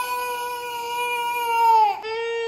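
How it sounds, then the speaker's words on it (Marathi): A baby wails in a long, tonal, sustained cry close by, rising slightly in strength before a brief catch and then continuing steadily. "म्हणून त्याचं रडणं चाललंय."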